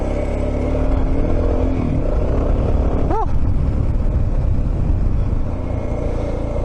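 A four-wheel drive car engine drones steadily in high gear while ploughing through deep sand at Murray Sunset National Park, with a continuous loud rumble and a brief whistling squeal midway.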